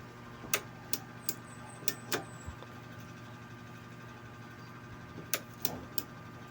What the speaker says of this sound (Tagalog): Ayaw, pumitik na relay. Ayun, pumipitik.